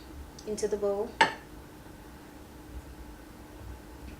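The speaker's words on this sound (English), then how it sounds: "So we're just going to spoon some rice into the bowl" White rice spooned into a bowl: a brief scrape followed by a single sharp clink of the spoon against the dish near the start, then near silence.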